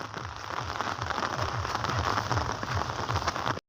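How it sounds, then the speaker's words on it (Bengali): Heavy rain pouring steadily outdoors beside a field at a rural picnic, with wind, a dense even hiss that holds for a few seconds before cutting off abruptly, with no voices over it. "বৃষ্টিটা আরো অনেক বেড়ে গেছে"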